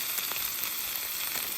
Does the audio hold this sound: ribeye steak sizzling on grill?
yes